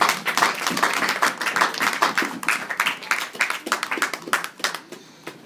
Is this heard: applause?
yes